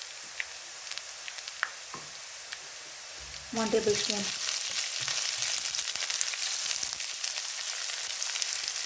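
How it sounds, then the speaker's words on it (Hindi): Garlic-ginger paste hits browned onions in a pan for a palak chana masala, starting a loud, steady sizzle that runs to the end after a quiet stretch with brief speech and light clinks. "अब हम इसमें डाल देंगे लहसुन अदरक का पेस्ट"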